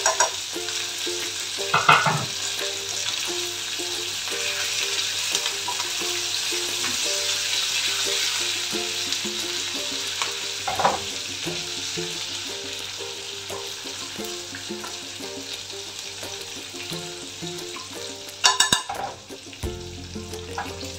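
Ginger and curry leaves frying in hot oil in a pan, a dense, continuous sizzle close by with occasional stirring knocks and a sharper clatter near the end, no voices.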